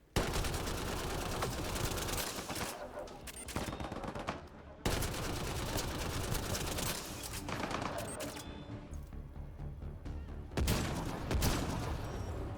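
Raptor and Vanquisher weapons firing in the video game Mass Effect: Andromeda multiplayer, loud rapid bursts of gunfire in several long volleys separated by short pauses.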